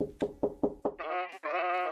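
A goat-like bleating voice at a door in the video game Cat Detective Albert Wilde: several sharp knocks in a row, then two drawn-out, wavering bleats, close and clear.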